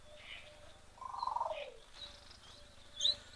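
A voice imitates a mourning dove's call with a soft, fluttering coo, set against a faint outdoor background of distant chirps at a waterhole.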